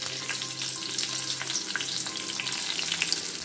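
Coarsely crushed garlic cloves, green chilies and curry leaves crackle in hot tempering oil for tomato dal, giving a steady bright hiss with scattered small pops and no speech.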